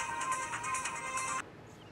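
A mobile phone ringtone plays a bright, repeating electronic melody for about a second and a half, then cuts off abruptly, leaving a quiet room.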